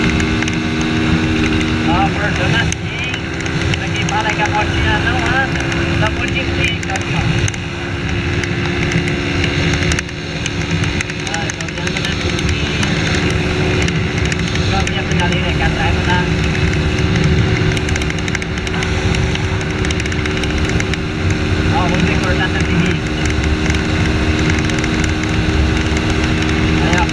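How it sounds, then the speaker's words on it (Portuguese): Honda Fan 160 motorcycle fitted with a tin exhaust, ridden fast with a steady loud engine drone and wind rush throughout, the engine note holding under occasional speech. "Pra quem fala que a motinha não anda, tá muito."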